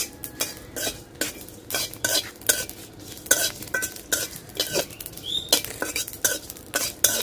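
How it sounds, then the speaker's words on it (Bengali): Spices fry lightly in a pan for a raw mango naru, with a spoon scraping and stirring in repeated quick strokes over a faint sizzle, close and clear. "সব মশলা একদম হালকা ভাজবো, বেশি ভাজবো না"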